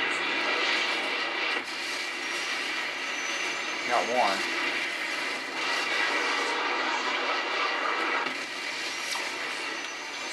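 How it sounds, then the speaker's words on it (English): Helicopters in Modern Warfare 3 Spec Ops on the Interchange survival map make a steady, broad rotor and engine drone throughout, with gunfire and effects mixed in and players talking over it. "Use it on the helicopters, yeah."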